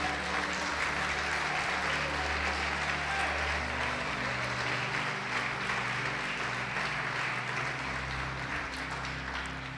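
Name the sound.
church congregation applauding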